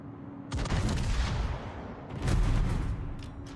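Naval gunfire aimed at a Benson-class destroyer in World of Warships: two loud, heavy booming salvos about two seconds apart, each rumbling and rolling off before the next.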